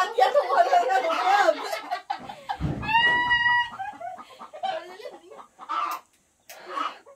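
Backyard hens kept for eggs cluck and squawk in a drawn-out, wavering call around the middle, with busy voices and talk over and around it.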